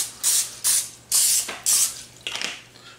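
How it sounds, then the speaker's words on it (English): Five short hissing bursts from a cooking oil spray can, each about a third of a second, close and fairly loud with brief pauses between. "another quick spray"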